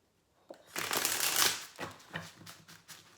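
Tarot cards being shuffled close up: a dense riffling flutter that swells for about a second, then softer repeated slaps as the deck is squared.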